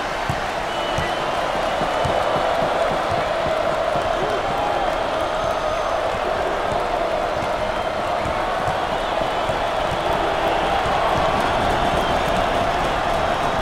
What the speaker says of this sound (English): The crowd is completely behind their team.